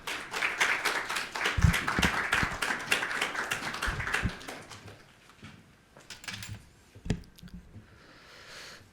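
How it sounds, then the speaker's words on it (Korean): An audience at a church worship service claps in welcome for an elder coming up to preach, a dense burst of applause that thins into scattered claps and fades out. "장로님 나오실 때 박수로 인사하겠습니다"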